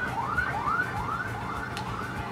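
An ambulance siren wails in repeated rising sweeps, about four cycles, loud and close against a low rumble, with no voices.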